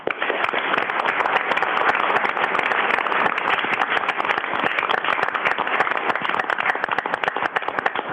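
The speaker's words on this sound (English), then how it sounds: "everybody can join me in giving them a huge round of applause" Steady, dense applause from an audience at a city council meeting honoring committee members, continuous clapping at even loudness throughout with no talking.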